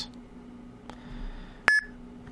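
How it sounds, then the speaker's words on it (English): A single short, sharp electronic beep rings out clearly over a quiet background hum after a Bitcoin payment is sent. "And you'll hear a little beep sound."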